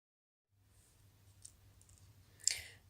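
A computer mouse gives a few faint, sharp clicks, with one clearer click near the end, over a low background hum.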